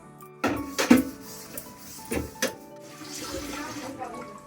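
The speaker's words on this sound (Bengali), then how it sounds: "বালতিটাকে ধুয়ে নিলাম" Bucket being rinsed with water at home, with several sharp splashes and knocks of the bucket followed by a softer stretch of running, sloshing water, close and intermittent.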